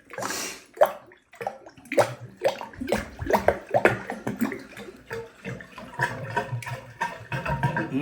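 Wet plunging noises as a plunger clears a clogged toilet: repeated squelching, sloshing pushes of water in the bowl, loud and close, with gurgling bursts between strokes.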